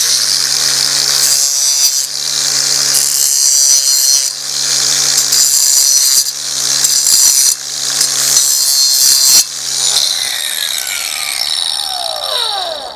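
A saw trims plastic model railway track in rapid, rasping back-and-forth strokes, loud and close, with brief pauses between bursts before a final squealing, scraping finish.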